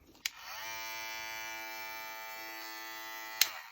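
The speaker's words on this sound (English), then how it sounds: "this is the sound check of this clipper" An electric 7000 RPM hair clipper switches on with a click, hums with a steady high-pitched buzz for about three seconds, then clicks off.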